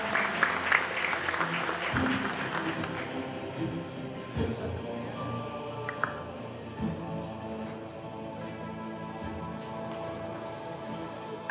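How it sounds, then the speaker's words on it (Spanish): Applause from the audience at a school graduation ceremony in a hall, a loud, dense burst of clapping at the start that thins and fades to scattered claps over about eleven seconds, with faint crowd murmur. "Le brindamos un fuerte aplauso y los invitamos a bajar del escenario."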